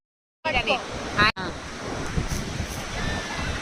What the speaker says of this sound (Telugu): బీచ్లో వాటర్ చూడండి ఎంత బాగున్నాయి కదా